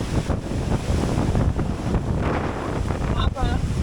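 Steady roar of wind and sea surf at Polillo Island buffeting the microphone, broad and continuous, with a faint voice briefly breaking through near the end.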